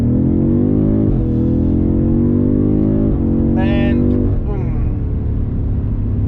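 A BMW M5 Competition pulls hard at full throttle in second gear, its engine note climbing loudly in repeated rising sweeps with sharp upshift breaks, up close from inside the car and with no talk.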